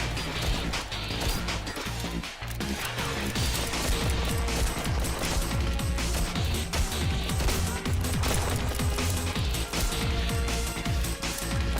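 Rapid machine gun fire from the video game Strike Force Heroes, a dense continuous burst of loud shots with crashing impacts throughout, no talking.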